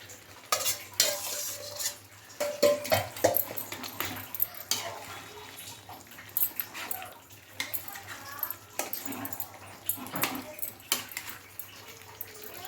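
Jackfruit curry pieces stirred and cooking in a pan over a simmer, with repeated scraping and clinking of a utensil against the pan and a soft sizzle running underneath, close and moderately loud.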